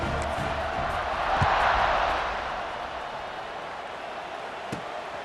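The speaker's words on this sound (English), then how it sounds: "this crowd now ready to get behind them" A stadium crowd in the EA Sports College Football 26 video game roars in a broad, steady swell that peaks briefly and then eases to a background murmur, with a few thuds and some faint talk.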